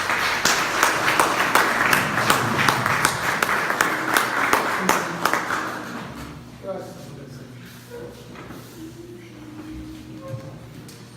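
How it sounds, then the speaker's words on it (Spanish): A church congregation applauds in a burst of dense hand clapping that fades out after several seconds, leaving a quieter room with scattered movement and faint voices. "Denle un aplauso al Señor."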